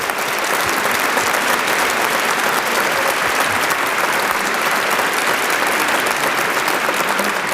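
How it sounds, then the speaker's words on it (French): A large audience at a 1986 televised dictation contest applauds the participating personalities, a sustained, even wash of clapping that continues loudly throughout. "je voudrais que vous les applaudissiez tous et toutes"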